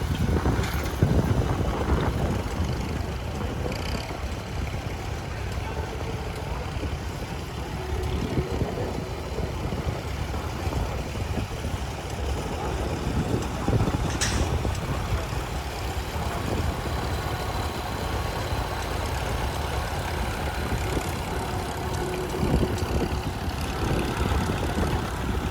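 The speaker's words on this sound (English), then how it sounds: "driving a M Farmall, pulling a John Deere Model 44 plow" A Farmall M tractor pulls a John Deere Model 44 plow through stony ground at a plowing contest, its engine running as a steady, continuous rumble with wind buffeting throughout.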